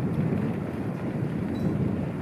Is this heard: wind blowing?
yes